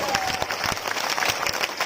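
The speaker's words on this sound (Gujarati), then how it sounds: "જોરદાર તાળીઓ સાથે" Vigorous sustained applause from a big crowd at a Gujarat village rally, thick and even with some distinct close claps and a faint hint of voices.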